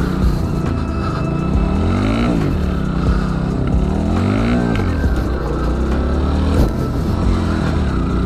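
A motorcycle engine revs repeatedly during wheelie and stoppie practice, loud and close, its pitch sweeping up and down in several throttle bursts over a rough idle.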